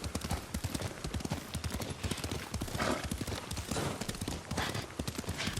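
Horse hooves clip-clop in a steady, close rhythm while riding in the video game Ghost of Tsushima, with a few brief whinnies and other background game sounds mixed in.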